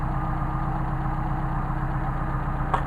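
A Mercedes 190SL engine with Solex carburetors idles close by in a steady, even low rumble with a faint rhythmic throb, running alone without voices and with a brief small click near the end.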